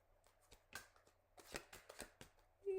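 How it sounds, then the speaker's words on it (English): A tarot card deck is shuffled close up, giving a quick run of crisp riffling flicks and soft slaps in irregular bursts, with no talking over it. "Can I even shuffle my deck, please?"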